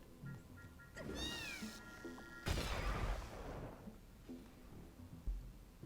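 A cat meows in The Swords of Ditto, a clear drawn-out cry followed by a louder, rougher yowl amid game noises and effects, with no talking.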